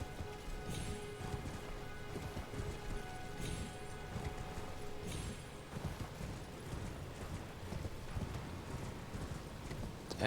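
Horse galloping in a video game, a rapid, continuous clip-clop of hooves running steadily throughout with busy game sound effects layered over it and no talking.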